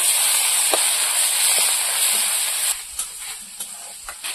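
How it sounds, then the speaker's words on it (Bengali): Onion with garlic and five-spice seeds frying in hot oil, a loud continuous hiss and crackle that eases partway through, with a few stirring knocks near the end. "পেঁয়াজটা ভেজে নেব।"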